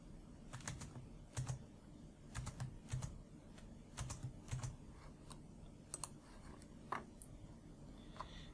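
Typing on a computer keyboard while writing text in a LaTeX document, soft clustered key clicks in irregular bursts, close but faint, with no talk.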